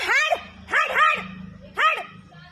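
A dog barks three times in short bursts, fairly close, with a low rumble of background noise between the barks.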